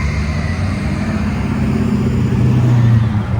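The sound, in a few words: car engine revving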